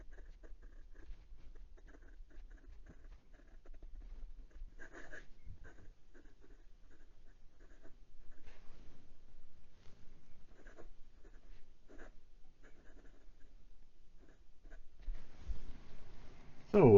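Fountain pen with a Bock titanium nib scratching faintly across paper in soft, intermittent strokes, light pressure throughout, with a louder rustle near the end.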